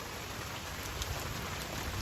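Steady rain pours down continuously, a dense, even hiss of drops with no pauses, heard alone with no voices.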